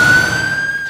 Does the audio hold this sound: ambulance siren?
yes